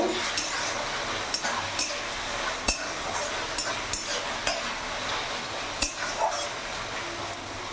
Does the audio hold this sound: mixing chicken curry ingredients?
yes